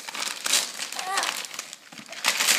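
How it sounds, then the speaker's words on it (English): Christmas gift wrapping paper crinkles and tears in quick, close rustling bursts, while a voice is heard in between. "Grab the paper. Rip it open."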